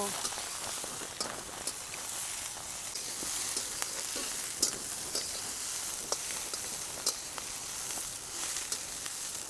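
Drumstick (shevga) flowers frying in a pan, a steady bright sizzle with small crackles and pops throughout, close and fairly loud.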